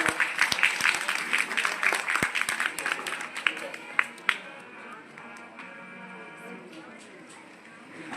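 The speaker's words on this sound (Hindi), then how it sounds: "एक बार भगवती प्रसाद जी के लिए जोरदार तालियां" Audience applause at a Ramlila performance in Bissau, honouring donor Bhagwati Prasad: a dense burst of clapping that thins out after about four seconds into scattered claps and crowd murmur.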